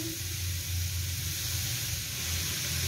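Shredded cabbage tipped into a hot pan with lightly cooked carrots for a vegetable samosa filling, giving a steady close sizzle and hiss that continues evenly throughout with no talking.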